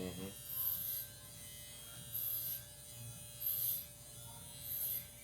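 An electric hair clipper buzzes continuously, with its high whine rising in four regular bursts as it passes through hair, close and fairly quiet.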